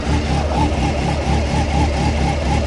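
Honda CB600F motorcycle engine idling just after starting on leftover carburetor fuel with no choke, a close, loud, steady rumbling idle with an even pulsing beat.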